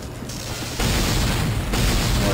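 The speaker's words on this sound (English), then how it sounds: "There's explosions." Loud booming blasts erupt in bursts from the PS1 video game Apocalypse, the second surge of explosions hitting harder and staying dense and crackling for about a second.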